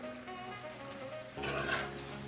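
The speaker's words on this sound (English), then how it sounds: "give it a little stir" Venison stew gets a gentle stir in a pot over low simmering noise, then a louder brief scrape and slosh of the spoon near the end, close by with no voices.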